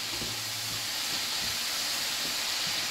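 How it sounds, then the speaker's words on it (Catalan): Octopus frying in a pan for a Catalan aguiat stew, a steady broadband sizzle and hiss running continuously and fairly loud throughout, with no talking. "deixant que s'ofrigui una mica"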